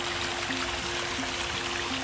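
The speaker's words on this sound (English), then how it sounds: "Now the water's flowing, you can hear that sound." Water runs steadily over three waterfalls in a nature-style garden stream, a continuous close rush and trickle with no pauses.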